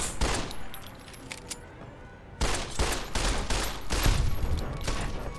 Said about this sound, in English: You threw a fucking grenade